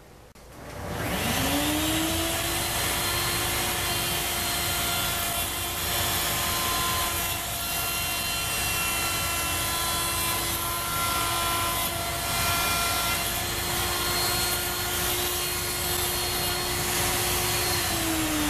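A router fitted with a bearing-guided pattern bit trims a plywood opening, spinning up to a loud steady high whine and droning evenly for about seventeen seconds with a rough cutting rasp beneath, close and with no talk.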